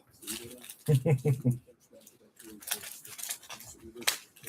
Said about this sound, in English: I gotta get my scissors out for these, don't I?